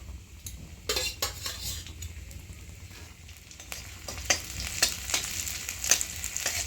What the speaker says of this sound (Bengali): আমি সাদা তেল গরম করতে দিয়ে দিয়েছি, তাতে আমি রসুন দিয়ে দেবো।